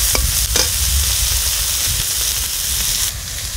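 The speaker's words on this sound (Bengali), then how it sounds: "এর মধ্যে সামান্য পরিমাণ হলুদ আর লবণ দিয়ে ভেজে নেব।" Eggs frying in a pan with turmeric, salt and chopped ginger give a loud, steady sizzle, with scraping stirs near the start, continuing close and alone throughout.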